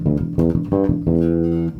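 Funky electric bass riff packed with muted ghost notes between punchy pitched notes, a quick syncopated run played close and alone.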